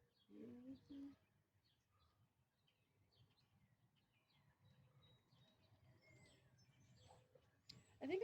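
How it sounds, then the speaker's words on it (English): Faint birds chirp outdoors in scattered short calls over quiet background, with soft voices and low murmuring nearby and a louder burst near the end. "I hear the bird chirping above you here"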